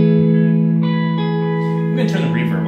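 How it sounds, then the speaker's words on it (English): An electric guitar chord through an analog delay pedal and a Blackstar HT Club 40 MKII amp rings out sustained, with echoing delayed repeats trailing behind as a second chord is struck near the end. "let's do the Lotkey analog delay. So turn that on."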